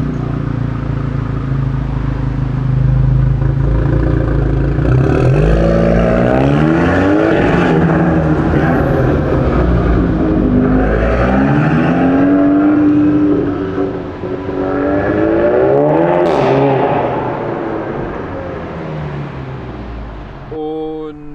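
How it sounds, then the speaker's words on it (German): Seat Leon Cupra fitted with an HJS downpipe and a Huracan V3 exhaust with flap control, revving loudly and steadily close by, engine pitch rising and falling in repeated sweeps over about twenty seconds. "Wir haben eine HJS Downpipe und eine Huracan Abgasanlage, die V3. Mit einer Klappensteuerung, die richtig saftig klingt."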